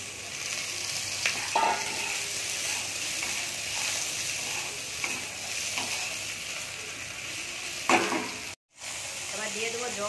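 Okra added to hot oil with potatoes and slit green chillies in a wide pan gives a loud, steady sizzle with stirring scrapes and a few sharp clatters, one brief dropout near the end.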